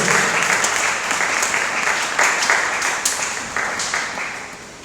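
A church congregation breaks into loud, sustained applause that swells and fades in waves, with a voice briefly audible underneath.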